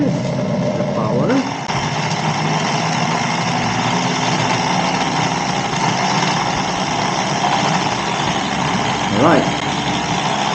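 A modified Hot Wheels Power Booster car launcher runs its motor and rollers with a continuous, loud mechanical whirring hum. The hum stays steady with brief rattles throughout.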